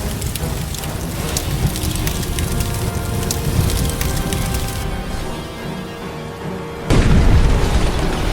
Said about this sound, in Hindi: एक बड़ा सा विस्फोट हुआ